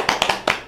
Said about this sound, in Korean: 권대하 하정민한테 박수 한번 치고